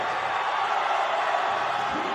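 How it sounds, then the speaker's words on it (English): Steady crowd roar from spectators at a high school basketball super-sectional between Saint Ignatius and Saint Patrick during overtime, a dense, fairly distant wash of cheering with no single voice standing out. "Crowd is way into it."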